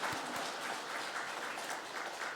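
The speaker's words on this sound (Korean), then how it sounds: "박수 한번 쳐주세요" A church congregation at a Sunday worship service in Seogwipo applauds for the parking attendants, a steady, fairly soft wash of clapping that holds evenly for a couple of seconds.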